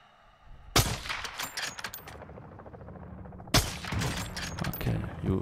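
Gunfire in the Call of Duty DMZ game: two sharp bursts of rapid shots, the first followed by scattered rattling fire, the second a dense fusillade, fairly close and loud.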